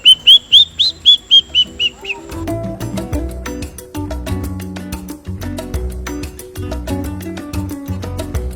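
A person mimics a roadside hawk call in a jungle setting with a quick series of about nine loud, piercing whistled notes that fall in pitch. Denser musical sound then takes over for the rest of the clip.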